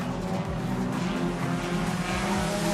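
C7 Lancer super sedan racing flat out around Carina Speedway, a loud continuous engine roar with steady harmonic drone and gradual pitch sweeps as it holds speed down the straight, joined by other cars on track.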